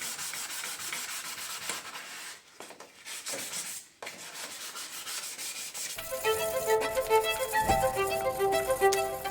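Hand sanding of a yellowed car headlight lens produces a steady scratchy rubbing with brief pauses, then continues more evenly alongside a brighter faint tonal background.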